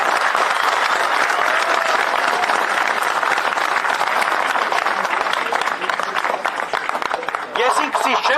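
A crowd at a street rally in Armenia applauds in support of a detained man, a dense, continuous wash of clapping with voices mixed in, holding steady before briefly thinning near the end.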